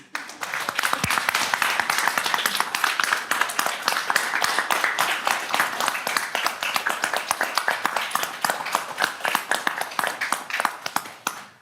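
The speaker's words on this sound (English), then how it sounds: "So now you can go ahead and applaud" At a city council meeting, the audience applauds a life-saving award honoree, a long, even burst of many hands clapping close by that holds steady and then tapers off at the end.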